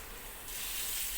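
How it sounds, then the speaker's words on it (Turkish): Steady scrubbing and rubbing against a pot, a continuous broadband hiss that grows slightly louder halfway through, like water running during washing. "Tenceremi yıkayayım."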